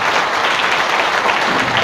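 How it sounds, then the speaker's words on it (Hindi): An audience at an introduction and honouring ceremony claps together in a dense, loud, sustained burst of applause with no break. "आप सभी बहुत बहुत दिल से उनका ताली बजाकर अभिनंदन करें"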